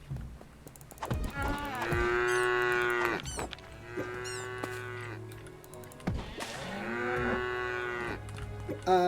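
Cattle in the video game Craftopia moo loudly in three long, drawn-out calls with pauses between them, close and clear with no talking over them.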